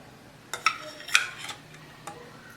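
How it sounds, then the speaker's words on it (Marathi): A metal plate placed over the rice container inside a pressure cooker, heard as a couple of bright ringing clanks followed by a softer tap, close and quiet. "भाताच्या डब्यामध्ये ना पाणी जाऊ नये म्हणून ही प्लेट ठेवू"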